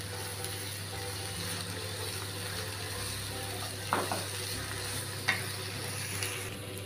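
Boiled potatoes are stirred into a frying masala for egg curry in a home kitchen, giving a steady low sizzle with soft scraping stir strokes and a couple of sharper clacks, with no voices.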